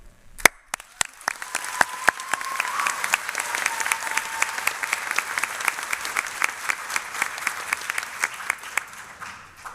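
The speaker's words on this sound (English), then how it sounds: "Could we please give a hand of applause to all our instructors, our beautiful families" A crowd at a registered nurses' pinning ceremony applauds instructors and families, starting with a few sharp, separate claps that swell into sustained, even clapping from many hands, moderately loud.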